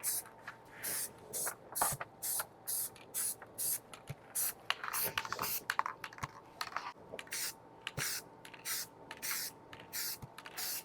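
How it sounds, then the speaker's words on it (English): Rust-Oleum flat black enamel spray paint hisses from an aerosol can in a long run of short bursts, each spray pulse separated by brief pauses, close and fairly loud with no talking. "black spray paint around the edges to help that mirror effect really pop as a mirror that it's been aged"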